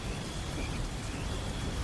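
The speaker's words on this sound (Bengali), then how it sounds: "ঝুমঝুম করে নেমে এলো মুষলধারে বৃষ্টি" Steady, dense rain pours down continuously, a constant rushing hiss with no breaks.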